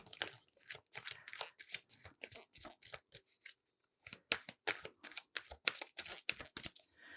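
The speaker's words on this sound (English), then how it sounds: "I'm going to pull one of the Rider Waite cards as well." Rider Waite tarot cards are shuffled by hand, a fast run of crisp riffling flicks that breaks briefly for a pause and then resumes, close and quiet with no talking.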